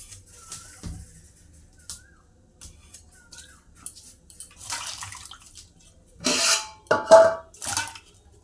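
Puja utensils are washed under water in a home kitchen: scattered drips and trickles, light metallic clinks, then louder bursts of running water splashing over the vessels near the end.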